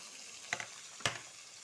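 Salted pointed gourd frying in a pan gives a soft, steady sizzle, broken twice by brief stirring scrapes.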